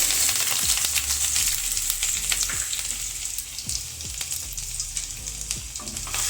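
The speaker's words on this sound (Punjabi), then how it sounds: "ਅਦਰਕ ਲਸਣ ਪਾ ਕੇ ਆਪਾਂ ਇਹਨਾਂ ਨੂੰ 2 ਮਿੰਟ ਵਾਸਤੇ ਪਕਾ ਲਵਾਂਗੇ" Ginger and garlic frying with cumin seeds in a pan, a loud, steady sizzle with occasional stirring scrapes and clicks throughout.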